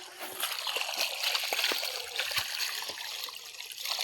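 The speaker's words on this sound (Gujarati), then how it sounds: "આ કેનાલનું પાણી છે." Canal water flows into a summer sorghum field, a soft, steady trickle with small splashes and gurgles running throughout at moderate distance.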